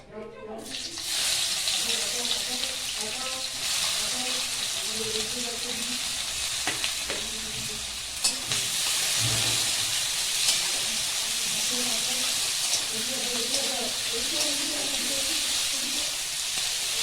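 A loud, steady sizzle of onions frying in hot oil fills the whole stretch, with occasional clinks and stirring noises and no voices.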